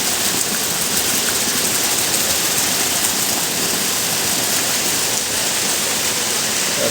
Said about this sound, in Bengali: এখন বৃষ্টি ভালোই নেমে গেছে।